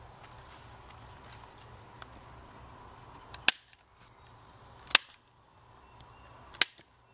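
A turkey shotgun fitted with a Carlson's LongBeard XR choke tube fires at a target 60 yards away. Three sharp, short reports ring out about a second and a half apart over a low, quiet background.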